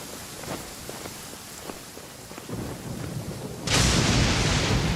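Steady rain hiss in Genshin Impact, building partway through into a louder, denser downpour with faint low rumbles, heard alone without voices.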